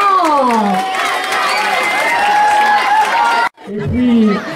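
Loud school crowd cheering and applauding in a middle-school courtyard after a student's slam poetry performance, continuous excited voices and whoops that break off suddenly, then resume briefly.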